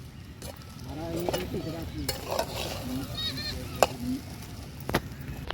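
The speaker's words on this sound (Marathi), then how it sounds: "हलवून घेतलं आईने आता परत." Khichdi cooking in ghee in a pot outdoors, a low bubbling sizzle with occasional sharp knocks and scrapes of a ladle stirring, faint bird calls and a distant voice murmuring underneath.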